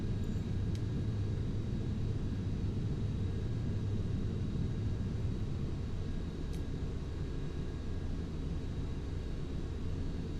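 Airliner taking off in Flight Simulator X, a continuous low engine rumble with a steady broadband roar holding level throughout, no clear changes in pitch.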